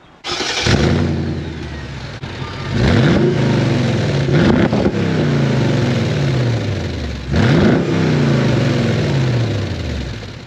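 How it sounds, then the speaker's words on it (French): Mercedes ML V8 engine running on 100% ethanol starts up then revs in three loud blips that rise and fall back to a rumbling idle, recorded close by without speech. "Allez, je vous démarre le petit V8. On écoute ce magnifique son."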